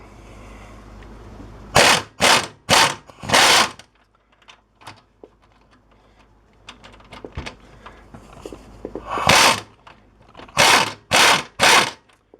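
A swivel socket ratchet clicks in bursts of rapid pawl chatter on the rear frame bolt of a Polaris Sportsman front bushing, with quieter tool knocks and fiddling in the pauses between.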